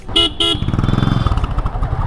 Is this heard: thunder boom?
no